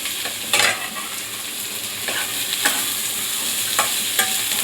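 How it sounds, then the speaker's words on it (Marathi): Okra (bhindi) sautéing in oil while being stirred, a steady hiss of frying broken by several sharp spatula scrapes against the pan, close and fairly loud, with no one talking. "छान परतून घ्यायचं आपल्याला"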